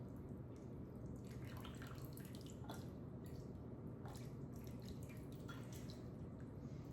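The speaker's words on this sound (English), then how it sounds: "So I'm gonna pour that into" Hot borscht soup is poured from a pot into a bowl, making a faint, continuous liquid trickle and splashing with soft drips close by.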